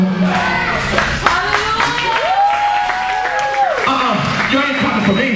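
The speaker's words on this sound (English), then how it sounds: "We're clapping because we have a right to worship." A worship congregation claps together through the service, a steady wash of hand claps mixed with sung voices and talk.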